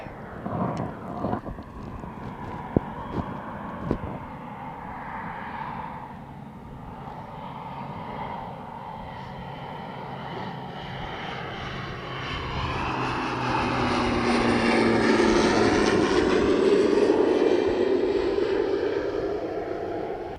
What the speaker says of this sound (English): Oh, mandatory plane break.